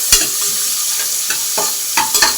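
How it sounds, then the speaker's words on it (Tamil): Two large onions frying and being stirred in a pan while cooking peas rice, giving a loud, steady sizzle broken by several sharp spatula scrapes close by. "ரெண்டு பெரிய வெங்காயம் போட்டுக்கலாம். நல்லா வதக்கிக்கலாம்."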